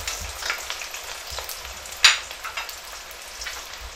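Onions hitting hot bleached palm oil for a Buka stew give a steady close sizzle and crackle, with one sharper pop partway through and no talking.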